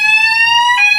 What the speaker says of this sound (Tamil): ஃபயர் அலாரம் அடிக்குது, டெஸ்ட் பண்ணுறாங்க இங்கே.